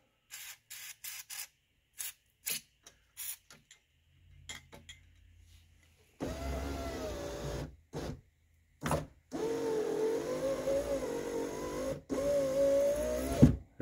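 A Lincoln Town Car's power window motor whirs and hums in long, steady runs with a rising whine, broken by brief pauses and clicks, after a series of short taps and knocks at the start.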